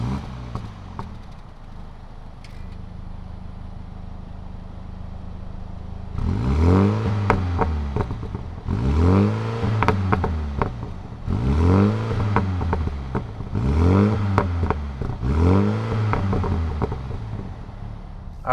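A 2020 Mini John Cooper Works Clubman engine fires up and idles, then gets revved hard five times in a steady rhythm, each rise and fall loud and close, with no talking over it.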